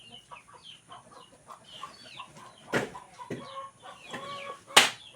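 Chickens cluck softly in a quiet outdoor setting, a few scattered calls with occasional sharper knocks or flaps nearby.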